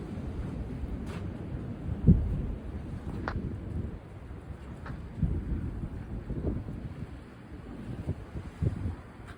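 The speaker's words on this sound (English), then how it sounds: "This is just a crazy, crazy wind event." Strong gusty wind during a severe windstorm, a steady low roar buffeting the microphone with surging gusts and a few brief knocks.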